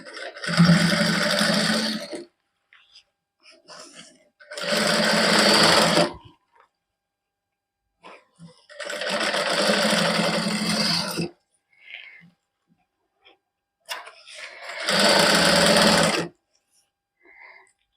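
A sewing machine stitches lace trim onto a hand-embroidered suit in four loud whirring runs of a second or two each, separated by quiet pauses with faint handling noises.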